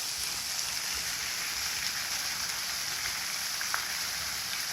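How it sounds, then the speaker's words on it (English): Steady hiss of falling and splashing water from a garden fountain in formal Italian gardens, a continuous broadband wash heard close and fairly loud with no talk over it. "That's the fountain I want in my garden."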